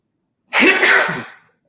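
One close, loud sneeze, a sharp burst that trails off in about a second, alone in silence.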